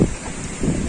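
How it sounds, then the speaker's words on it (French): Wind buffeting an outdoor microphone in low rumbling gusts, steady for the whole second and swelling again near the end, with no voices. "Vous avez entendu un peu le vent?"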